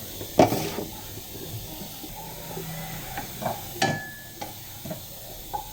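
Garlic and onion sautéing together in a pan for chicken with mushroom, a soft sizzle with spatula stirring and occasional sharp clinks of utensil against the pan.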